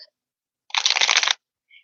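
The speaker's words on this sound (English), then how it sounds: "I'm going to shuffle the cards and get situated for group two" Tarot cards are shuffled in one quick, crisp riffle lasting about half a second, close and clear against near silence.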